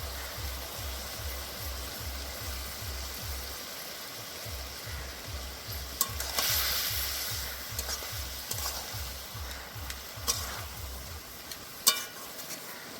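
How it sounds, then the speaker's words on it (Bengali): Cabbage cooking in a pan after sautéing, a soft steady sizzle with a rapid rhythmic low thumping of stirring in the first half, then scattered clicks and scrapes, quiet and close, no talk. "ভালো করে কষে নিয়েছি, অল্প একটু জল দিয়ে দেবো এখানে আমি।"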